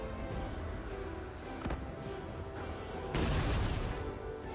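A sharp howitzer blast cracks out, followed by a heavier booming rumble, over a constant dense background of game noise in Cossacks 3.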